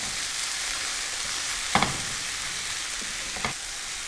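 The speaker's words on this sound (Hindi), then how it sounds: "वेजिटेबल्स को हमने सौते कर लिया है।" Mixed vegetables sautéing in a pan, a steady loud sizzle with two brief scraping stirs of a utensil.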